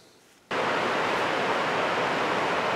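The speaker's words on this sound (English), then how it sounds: "Yep, raining again in Tennessee," Steady rain in Tennessee during a 1987 Jeep XJ axle bearing job, a broad hiss that swells in abruptly after a half-second of quiet and then holds loud and even.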